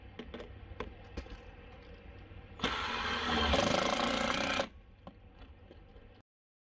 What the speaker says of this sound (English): I'm gonna go ahead and drive this screw in